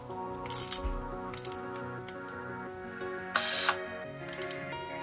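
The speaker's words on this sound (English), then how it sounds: "You can also hear the stretching of the film if you listen carefully." A Widelux F6 mechanical panorama camera winding and stretching film, giving close, crisp ratcheting clicks and short bursts of gear whir in an uneven sequence.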